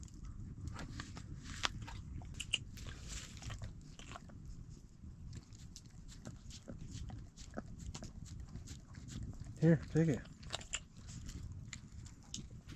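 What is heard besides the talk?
animal chewing a Michigan grown apple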